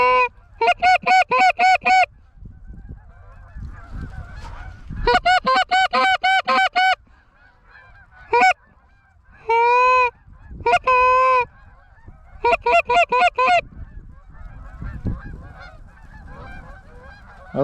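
A big flock of geese passing overhead during a goose hunt in a blizzard, honking loudly in several bursts of rapid calls separated by quieter gaps filled with wind.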